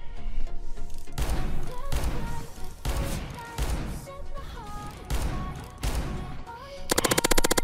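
Revolver fire in a video game comes as a run of loud, close, closely spaced shots in bursts, separated by brief pauses, with game music and effects underneath.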